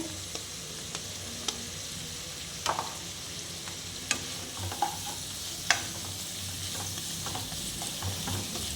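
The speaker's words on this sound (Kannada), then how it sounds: "ನಾವು ಸಣ್ಣದಾಗಿ ಇಟ್ಟಿರೋ ಪುದೀನ ಸೊಪ್ಪು ಹಾಕ್ತಾ ಇದ್ದೀವಿ ಈರುಳ್ಳಿ ಹಾಕ್ತಾ ಇದ್ದೀವಿ" Chopped mint leaves and onions fry in a pan for a chicken dish, a steady sizzle running throughout with scraping stirs and sharp utensil clicks at intervals, close and unaccompanied by talk.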